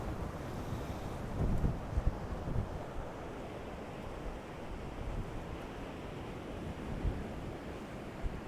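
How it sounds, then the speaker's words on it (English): Steady wind buffets the microphone in a low continuous rumble by the sea at Costa Teguise, with surf washing faintly behind it. "You can probably hear the wind as well."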